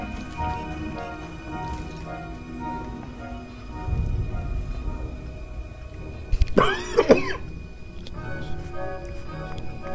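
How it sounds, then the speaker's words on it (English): One person coughs a few times in a short burst midway, close and fairly clear, over quiet, low video game ambience with faint hum. "Sorry if you heard me cough."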